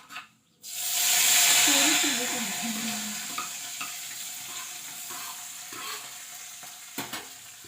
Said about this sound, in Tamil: கடுகு நல்லா பொரிஞ்சு வந்துருச்சு. இப்போ கருவேப்பிலையும் பட்டை மிளகாயும் போடும்.